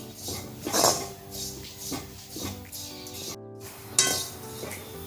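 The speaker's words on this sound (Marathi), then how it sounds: "थोडं मध्यम गॅसवर आपल्याला भाजून घ्यायचंय. थोडंसं ब्राऊन करून घ्यायचंय." Masala spices dry-roasting in a pan over a medium gas flame, with repeated clinks and scrapes of a spoon against the metal pan and a soft sizzle between the strokes.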